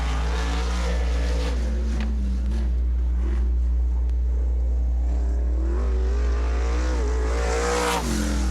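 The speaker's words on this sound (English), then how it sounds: "13052 for Jake Gilman, with just a handful of more cars to time in" A winged sprint car on the Western Sprint Tour runs a time trial lap at Sunset Speedway Park, its engine roaring loud and steady throughout with rising and falling revs, no talk over it.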